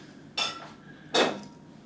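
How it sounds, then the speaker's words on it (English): Two brief scraping clinks from stirring a Singapore Sling cocktail in a glass, each a short bright rattle about a second apart, close and fairly quiet with no talking. "Give that just a slight stir to add the effervescence there"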